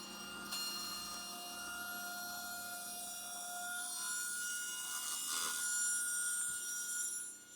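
A table saw rips a thin strip of wood off a rough board edge, a loud sustained whine with steady tonal hum and rising rasp as the blade cuts through, then winds down at the end; no talking.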